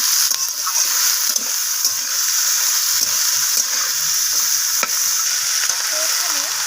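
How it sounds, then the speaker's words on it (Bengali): Cauliflower stalks fry in a pan, a steady bright sizzle throughout with intermittent scraping and clacking of a spatula as they are stirred, close and continuous with no talk. "সমস্ত কিছু সেইভাবে নাড়াচাড়া করে আমি একটু ভাজা করে নিচ্ছি।"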